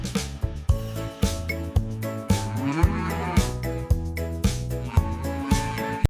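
A cow mooing in a children's animal-sounds lineup, a series of low harmonic calls spread across several seconds with short breaks between them, loud and close.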